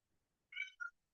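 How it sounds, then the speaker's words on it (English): A single domestic cat meows once at close range, a short two-part call with a rising first note and a brief second note, alone in an otherwise quiet room. "Cats. Love them."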